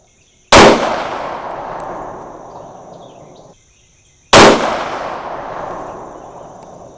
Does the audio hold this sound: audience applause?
no